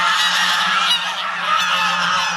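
Farm geese on Kangaroo Island honk loudly and continuously as a flock while the farmer brings their feed, a dense, overlapping chorus close by with no talking.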